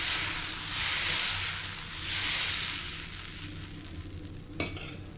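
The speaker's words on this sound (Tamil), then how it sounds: "ஒரு கரண்டி மாவை ஊற்றி நைஸாக போட வேண்டியதுதான்." Dosa batter spread on a hot griddle sends up a steady, moderate sizzle that swells and fades in slow waves, with one sharp tap of a ladle or spatula near the end.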